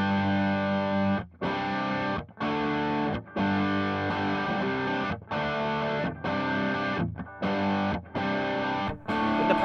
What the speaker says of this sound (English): So here's the sound of just the distortion and the amplifier.